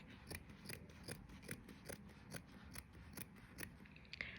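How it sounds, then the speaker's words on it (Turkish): Scissors snip through lining fabric in a quick repeating rhythm, close and fairly quiet, with no talking. "Şimdi bu kestiğiniz yerden hemen şöyle bir makas yardımı ile"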